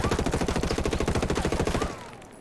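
Rapid automatic gunfire from the SC 4000 rifle in Ghost Recon Wildlands, a steady, loud, evenly spaced burst of roughly twenty shots that stops abruptly and leaves a short fading tail.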